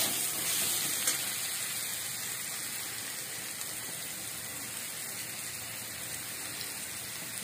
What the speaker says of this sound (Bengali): আলু আর কুমড়োটা ভাজা করলাম